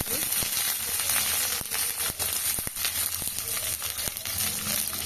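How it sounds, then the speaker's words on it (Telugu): Ridge gourd pieces and green chillies fry in hot oil with a steady, close sizzle, broken by scattered sharp crackles and pops. "ఆయిల్ వేడయ్యాక బీరకాయ ముక్కలు, పచ్చిమిర్చి,"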